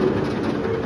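A B&M inverted roller coaster train roars overhead at Busch Gardens Williamsburg, a loud, continuous rumbling rush close by, with no talking.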